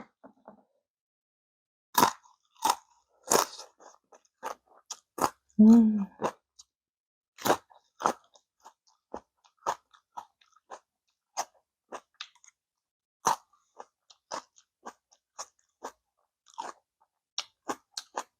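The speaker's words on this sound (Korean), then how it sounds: "만두 먹을게요 만두" Korean dumplings (mandu) are chewed and eaten close up, with a series of wet bites and mastication sounds spread irregularly and a brief murmur from the eater.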